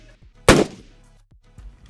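A single designed gunshot for game audio rings out, built in REAPER: one sharp, loud crack followed by a short decaying tail and then near silence.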